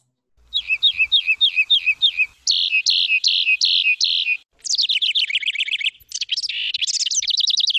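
Wren song rings out loud and close, with rapid repeated trilled phrases and bubbly chattering notes. Its pattern shifts between several distinct series, separated by short pauses, over a quiet background.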